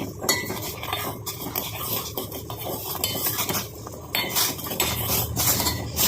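A utensil stirs a jaggery and sugar mixture in a pan, with repeated scraping and clinking against the metal in an irregular rhythm, close and moderately loud with no talking.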